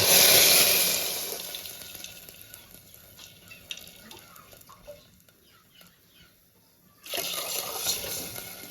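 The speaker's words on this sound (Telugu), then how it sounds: "అందుకే నేను 3 లోటలు వాటర్ వేసుకుంటాను." Water poured from a small vessel into a cooking pot for foxtail millet upma, a loud splashing pour at the start that fades into quieter trickles, then another burst of pouring near the end.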